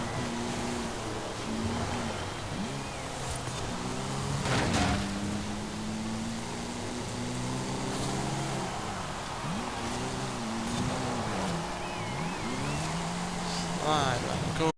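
A race car in Forza Horizon 5 drives through a seasonal championship race, its engine droning steadily with rising and falling pitch as it shifts and slides through corners, while a person talks over it.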